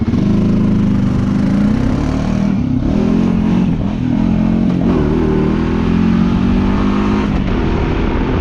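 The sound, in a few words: engine exhaust in low gear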